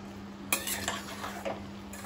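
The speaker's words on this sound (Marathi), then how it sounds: "पुन्हा जराशी परतवणार." A spoon stirs Kadve Vaal bhaji with drumstick leaves, onion and fresh coconut in a pan, giving a few close scraping strokes and light clinks over a constant low hum.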